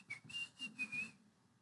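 A person whistles a short tune in a few brief phrases, clear and fairly close, with low room noise underneath and no talking.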